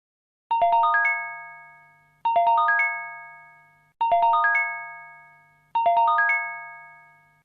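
An emergency notification system alert tone, a chiming ascending ding-dong pattern sounding four times at even intervals, each chime bright and ringing before fading out, with no voices.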